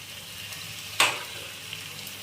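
Onion and tomato fry over a high gas flame in a pan of tilapia sauce, with a steady sizzle and one sharp, loud hiss burst midway, then the frying settles back.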